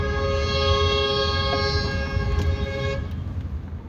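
A car horn honks in a long sustained blast for about three seconds amid loud road traffic during holiday-season congestion, with engine rumble continuing after the horn stops.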